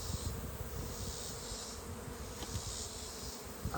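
Honeybees from a hive frame being shaken make a dense, continuous buzzing drone up close. A few soft knocks and thumps come through under the hum.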